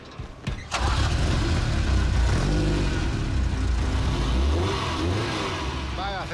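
A Ferrari Mondial engine catches and revs up close, then settles into a loud, throbbing rumble with rising and falling surges.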